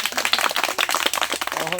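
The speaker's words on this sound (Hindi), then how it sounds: "जोर से ताली बजाओ" An audience claps loudly, a dense run of close, rapid hand claps at a recitation event, mixed in with a person speaking.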